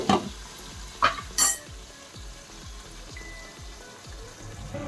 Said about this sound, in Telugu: ఇవన్నీ వేసి వేయించుకొని కొద్దిగా మగ్గరిద్దాం